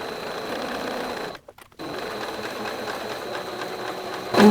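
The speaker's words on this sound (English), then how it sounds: "I'm going to sew from the neck to the shoulder notch on each side, and then I'm going to sew up the side seams." A sewing machine stitching the neck-to-shoulder and side seams of a tie sleeve top, a steady close whirring run with a brief stop partway through before the stitching resumes.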